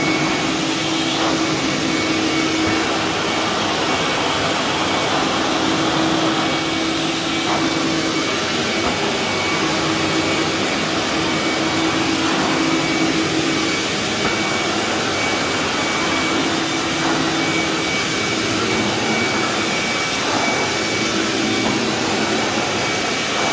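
A Craftsman shop vac runs steadily in a gym, giving off a constant loud rushing whine with a hum underneath that holds unchanged for over twenty seconds, with no talking.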